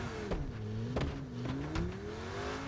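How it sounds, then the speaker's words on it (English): A Lamborghini in the game H1Z1 drives by with its engine droning and revving, pitch climbing and dropping through gear changes, loud and steady with no talking. "Driving past the scoreboard in my Lambo"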